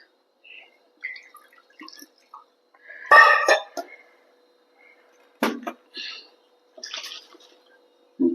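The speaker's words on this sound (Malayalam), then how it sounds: "നമുക്കത് ജാറ് കഴുകിയിട്ട് വെള്ളം കൂടി ഒഴിച്ചു കൊടുക്കുക" A grinder jar is rinsed and the water poured into a pot of mango pulissery: short splashes and drips break a quiet room, with a cough and a few small knocks between them.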